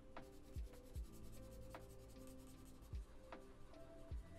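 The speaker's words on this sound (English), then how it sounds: "This is burnishing now." Colored pencil burnishing a drawing on a candle greeting card: steady soft rubbing and scraping close up, with a few duller taps and strokes spaced through it. No talking.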